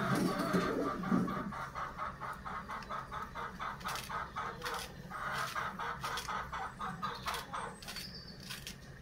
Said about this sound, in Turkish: Kara tavuk bağırıyor Melek Hanım.